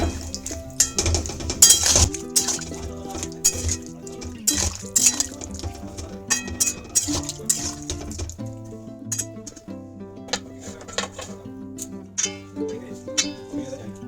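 A spoon clinks and scrapes against a pan while spices are mixed with a little hot water, giving irregular metallic taps and clatter at close range, with no voices.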